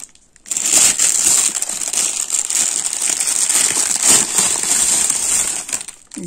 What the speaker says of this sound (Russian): Сейчас снимем упаковочку.